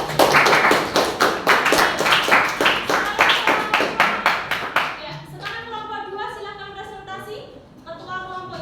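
Classroom clapping for a student group's presentation: loud rhythmic hand claps for about five seconds, then thinning out as a voice begins speaking.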